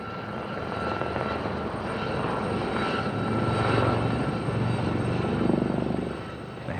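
One Lynx and four Gazelle helicopters thrum steadily overhead in a flying display at the 1994 International Air Tattoo, RAF Fairford, a continuous rotor and engine roar swelling slightly louder in the middle before easing off.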